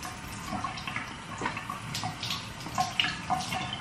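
Tap water runs steadily during a young child's toothbrushing at a bathroom sink, a continuous hiss and splash with small irregular spatters throughout, moderately close and alone without voices.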